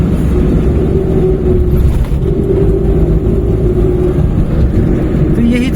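A Maruti 800 accelerating on the road, a loud, steady engine drone close by from inside the car, rising gently in pitch with a small dip midway, over constant road rumble.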